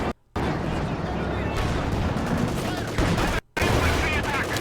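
Rapid gunfire and explosions from a Company of Heroes battle involving KV-1 and T-34 tanks against a Panzer, dense and continuous, with two brief silent gaps.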